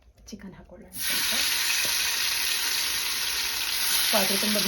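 Chicken dropped into hot ghee in a clay pot heated over a wood-fire stove sets off a loud, steady sizzle that starts abruptly and holds, with a few faint stirring clinks underneath.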